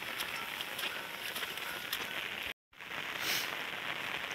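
Heavy rain falls steadily outdoors in a rural Odisha setting near paddy fields, a dense, loud hiss that runs throughout with one very short gap of silence midway.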